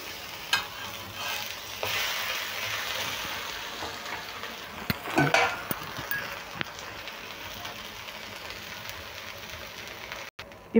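Uttapam cooking in oil or ghee on a pan makes a soft, continuous sizzle with occasional clicks and scrapes, faint and close, with no talk.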